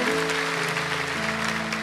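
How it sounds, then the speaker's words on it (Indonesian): Applause from a church congregation during a service, a broad steady clapping wash with sustained organ or keyboard tones running underneath. "Kasih tepuk tangan untuk mereka."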